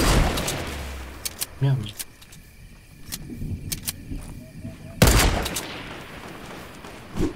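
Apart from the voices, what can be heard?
gunshots in a video game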